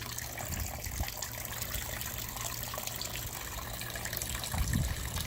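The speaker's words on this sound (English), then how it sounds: "Running some water down into the sink." Water from a faucet runs steadily into a DIY bucket sink with a strainer, a soft continuous splashing and gushing close by with a low hum underneath, no talking.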